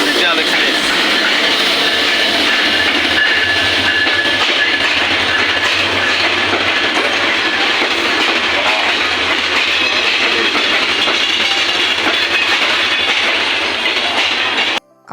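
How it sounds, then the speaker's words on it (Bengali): The Kurigram Express passenger train, hauled by a 2023-series locomotive, rumbles past at a station with loud, continuous wheel noise and clatter. The sound stays strong throughout and cuts off sharply at the end. "এই হলো সেই কুড়িগ্রাম এক্সপ্রেস।"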